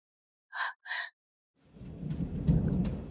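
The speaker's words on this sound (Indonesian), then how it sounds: "Ada hujan badai di luar." Two short bird-like chirps, then a low rumble of thunder swells under steady rain, gathering toward the end.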